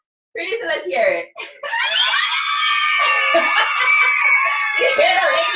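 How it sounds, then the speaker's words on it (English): Women scream for a rock star on a stage, loud sustained high shrieks and whoops from several voices after a burst of excited chatter and giggling. "You hear the ladies screaming for the rock star on stage?"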